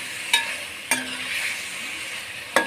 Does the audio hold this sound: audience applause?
no